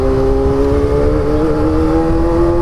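A Kawasaki ZX25R motorcycle being ridden at night, its engine giving a loud, steady high-pitched whine with a constant rumble beneath and only a slight pitch wobble, with no speech.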